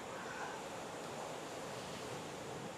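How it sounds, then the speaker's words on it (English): Distant ocean waves crashing during a typhoon in the Philippines, a continuous broadband roar of surf with wind mixed in, steady and unbroken, no talking. "Oh, those crashing waves out there."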